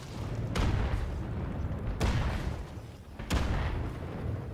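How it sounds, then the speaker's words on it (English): Three heavy artillery explosions from a video game strike at regular intervals, each a sharp, loud boom trailing into a rumbling roar that fills the gaps between blasts. "calling in artillery"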